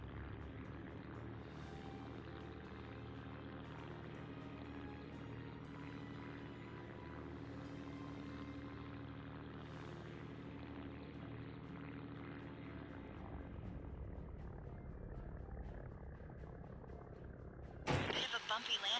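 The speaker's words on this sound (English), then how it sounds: "Why does this sound like the plane is trying to die when you take off?" Propeller airplane engine in a video game droning steadily on takeoff, a loud continuous hum that cuts off near the end before a brief burst of noise.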